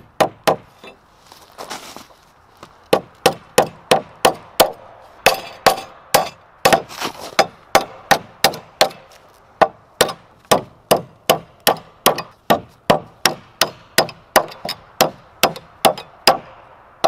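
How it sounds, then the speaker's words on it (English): Spikes being hammered into wood while building a micro cabin, a long series of sharp, evenly paced knocks close by, roughly two per second after a brief pause, with no speech. "Hammering."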